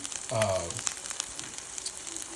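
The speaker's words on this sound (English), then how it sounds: "So I pan fry it so it gets a little crispy brown on the outer part." Meatloaf pan-frying until crispy and brown, a soft, continuous crackle and sizzle with a short tonal clink near the start, quiet and close with no voices.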